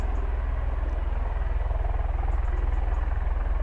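A V-22 Osprey tiltrotor aircraft at RAF Mildenhall gives off a steady, distant rotor drone with a low, pulsing beat that holds evenly throughout.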